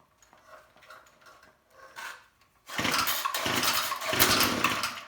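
A small engine being tuned up on full choke coughs through a few quiet, sputtering pull attempts, then catches and runs loudly with a rough, uneven rattle near the microphone.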